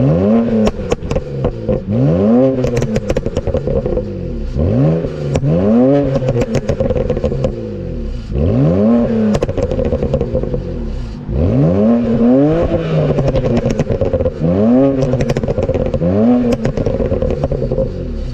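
A tuned 2007 BMW 335i E92 pulls hard through repeated full-throttle runs, engine note climbing through each gear and dropping at every shift, loud and close with crackles and pops between pulls.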